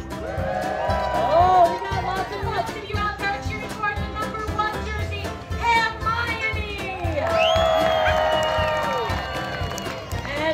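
A crowd cheers and shouts at a pig race at the Alaska State Fair, a busy mix of voices including children, with an announcer talking over the noise throughout.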